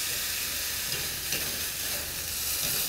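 A ham steak sizzling steadily on an SNS Grills kettle grill, a close, even crackle that runs throughout, with a faint soft shift around the middle as the meat is turned.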